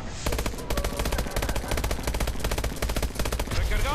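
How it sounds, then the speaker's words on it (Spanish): Rapid IMR assault rifle fire in the Call of Duty: Advanced Warfare Exo Zombies mode, with a dense, loud stream of closely spaced gunshots running unbroken for several seconds alongside game effects. "con una ráfaga completa de la IMR es tan fácil matarlo"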